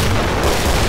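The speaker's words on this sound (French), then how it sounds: "on va jouer un peu au lance-grenade" A grenade launcher in the game Killing Floor fires a loud, booming blast that fills the whole short moment, close and harsh with no talk.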